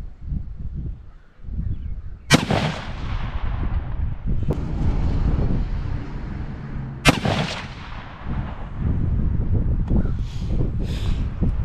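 Rifle shots during test firing at a range, with two loud sharp reports several seconds apart, each followed by a long rolling echo over steady wind noise.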